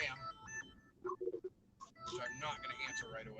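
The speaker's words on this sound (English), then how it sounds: "Oh, now I got a phone call from Sam," An incoming call's ringtone chimes in short bursts, partly over and between a man's speech, at moderate volume.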